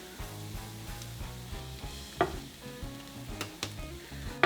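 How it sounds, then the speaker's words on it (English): Steady crackling sizzle of spices frying in a hot pot, with faint stirring scrapes and a soft tonal hum underneath, no talking. "Cook the spices for about 1 minute to release their flavors."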